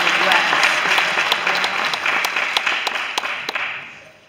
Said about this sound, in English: Insert applause here.